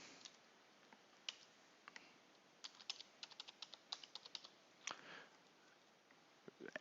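Keystrokes on a computer keyboard entering an admin account password, faint irregular clicks in short bursts and single taps over quiet room hiss.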